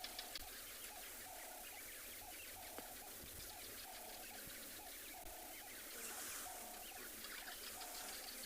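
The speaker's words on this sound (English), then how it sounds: "You can hear the Cape turtle doves singing." Cape turtle doves call at dusk on a South African safari, a faint, rhythmic repeated cooing at steady intervals over a dense, hissing wash of insects and other night sounds.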